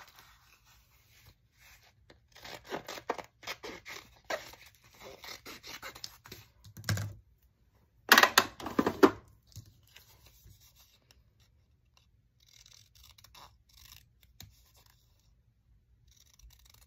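Scissors or a blade cutting paper for a Dollar Tree mini photo album, a series of close, dry rasping and snipping strokes in bursts, with a louder scraping flurry midway and quiet gaps between.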